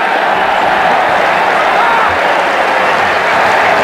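A stadium crowd at a Pakistan versus Sri Lanka one-day international cricket match cheers and applauds a boundary four, a loud, sustained roar with clapping mixed in, close and continuous.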